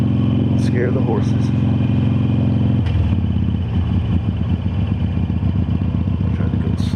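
A Harley-Davidson Iron 883 motorcycle rides slowly along a rural road past horses and cows, its engine rumbling loud and steady up close, with a shift in tone partway through and a faint voice mixed in.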